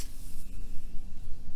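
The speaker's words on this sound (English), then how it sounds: "Let's spray this." An aerosol can sprays during a car wash, a steady close hiss with small pulses in pressure, heard alone without talk.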